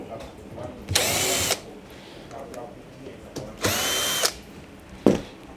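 A power drill removes screws from a Samsung dryer during a repair of a drum that won't spin, giving two sustained whirring bursts of about half a second to a second each, plus a short final buzz, close by and loud, with faint talk in between.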